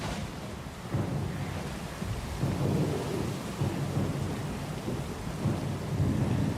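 A thunderstorm at sea in Pillars of Eternity II: Deadfire: steady heavy rain and wind wash under rolling thunder that surges in repeated low swells, dense and continuous with no voices.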